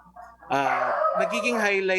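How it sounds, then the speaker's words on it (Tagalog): Dogs bark in short, close, loud bursts, a couple of sharp yelps filling the brief moment. "pasensya na po sa mga aso po namin"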